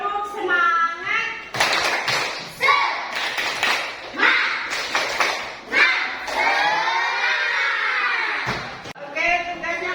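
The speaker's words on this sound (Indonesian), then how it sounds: "Tepuk semangat." A school class does the tepuk semangat ice-breaker, a rhythmic clapping chant, with sharp group claps landing in a steady pattern between lively voices chanting along, close and fairly loud throughout.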